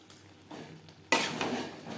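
A spatula stirs a vegetarian bottle gourd ghonto with Gobindobhog rice and roasted spice mix in a pan, producing close scraping and clinking strokes that swell into a soft sizzle partway through, with no talk.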